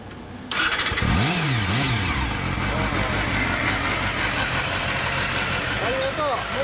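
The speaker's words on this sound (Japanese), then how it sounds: "エンジン音聞かせてもらえますか" A Honda Hornet 250 (CB250F) cafe racer motorcycle engine fires up suddenly, blips its throttle a couple of times, then settles into a steady, rumbling idle close by.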